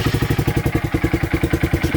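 A 2023 Honda Grom motorcycle with a new exhaust and the baffle still in idles just after starting, a close, loud, steady rapid thumping pulse of the small single-cylinder engine.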